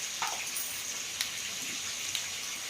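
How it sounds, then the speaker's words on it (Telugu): Mustard and cumin seeds sizzle in hot oil for a tempering, a soft steady hiss with a few sharp crackles and pops, close but fairly quiet, with no voices. "తాలింపు గింజలు వేసుకుందాం."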